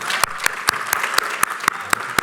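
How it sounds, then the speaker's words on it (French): Steady clapping from a group, with sharp regular claps standing out over a dense bed of hand claps, sustained throughout. "j'avais envie que vous vous applaudissiez là maintenant"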